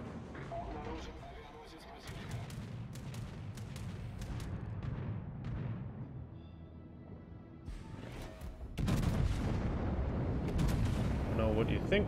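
High-explosive shell fire in World of Warships aboard the Vladivostok, with booming cannon salvos and impacts over a rumbling background, growing louder near the end; someone talks over it.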